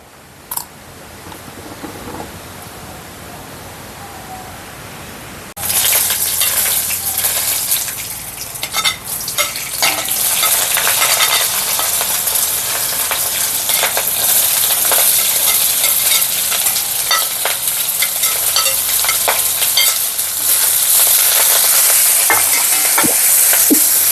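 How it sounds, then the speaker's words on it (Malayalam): Onions and chillies fry in hot oil left over from frying cauliflower for a Kerala-style cauliflower mappas; after about five quiet seconds a loud, steady sizzle starts and keeps going, with stirring scrapes and no voices. "കോളിഫ്ലവർ വറുത്ത് കോരി എണ്ണയ്ക്കകത്തോട്ട് തന്നെ നമുക്ക് ഈ സബോളയും മുളകും എല്ലാം കൂടെ ഒന്ന് മൂപ്പിച്ച് എടുക്കുക"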